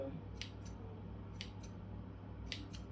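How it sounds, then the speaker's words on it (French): Kitchen scissors snip through baguette dough in four short, crisp cuts spaced roughly a second apart, quiet and close over a low steady background hum. "Prendre mon ciseau de cuisine."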